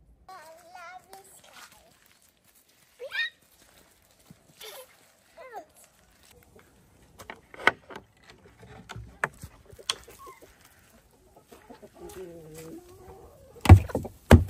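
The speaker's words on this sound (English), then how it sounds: "we gotta go let the chickens out." Chickens cluck and squawk in scattered bursts outdoors on a homestead in Portugal, with footsteps, light clattering and a voice now and then.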